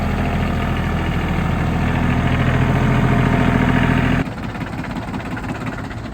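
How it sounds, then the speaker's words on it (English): A tractor engine idles loud and close, a steady low rumble with rhythmic knock that drops to a quieter, rougher idle near the end. "thanks for breaking and repairing my tractor there, Jake."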